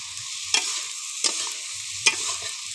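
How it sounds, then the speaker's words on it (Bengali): Eggplant frying with onion and green chili is stirred in a pan, three distinct scraping strokes of the spoon rising over a soft, steady sizzle. "সুন্দর করে নেড়ে নেব।"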